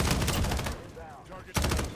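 Automatic gunfire in Call of Duty Modern Warfare, loud dense bursts of rapid shots, a brief gap with a whooshing effect, then another heavy burst right up close.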